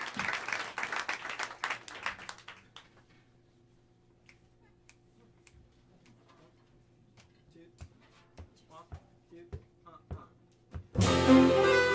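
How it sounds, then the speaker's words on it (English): An audience at Smalls jazz club in New York claps briefly at first, then goes quiet with a low hum and scattered snaps and taps, before louder applause bursts in at the end. "A big round of applause"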